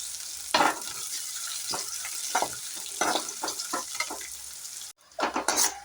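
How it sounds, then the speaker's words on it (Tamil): Onions sauté in a pan with mustard seeds and dried chillies, a steady sizzle broken by scraping stirs and the clink of a spoon against the pan, close and moderately loud. "ஆனியன் நல்லா வதக்கணும்."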